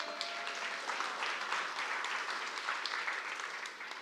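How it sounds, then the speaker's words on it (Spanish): Church congregation applauding Henry after his turn on stage: a steady wash of many hands clapping throughout, moderately loud in a large room, easing off slightly at the end. "dale un fuerte aplauso a Henry"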